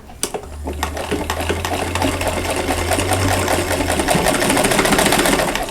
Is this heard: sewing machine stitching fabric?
yes